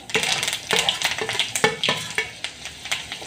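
Masala hits a hot pan of cumin tempering and fries with a crisp sizzle, broken by repeated scraping strokes of a spoon stirring in an uneven rhythm, close and clear with no talking.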